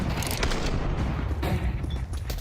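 R8 revolver fire during a Counter-Strike match amid constant noisy, crowded arena ambience, with several sharp shot-like bursts scattered across a loud, dense background and no clear speech.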